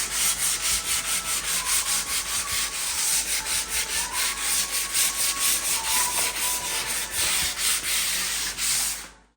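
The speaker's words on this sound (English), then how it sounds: "So I'm just using some 150 grit and some elbow grease to start working on sanding it" Hand sanding of pine wood with 150 grit sandpaper: close, rapid back-and-forth rasping strokes in a steady rhythm, loud and continuous with no talk, stopping abruptly at the end.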